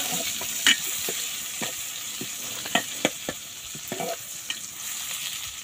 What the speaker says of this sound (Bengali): পেঁয়াজ কুচিও দিয়ে দেব। দিয়ে হালকা নেড়ে চেড়ে একটু ভাজা ভাজা করে নেব।